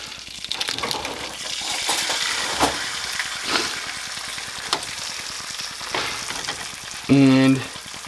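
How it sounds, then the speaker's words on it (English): An egg fries in melted butter in a pan, giving a steady close sizzle with scattered crackles and spatter, then a brief louder clatter near the end; no one speaks. "I'm going to put a little bit of butter down. Just to get it spread out here on the pan. And then I'm just going to go ahead and fry an egg"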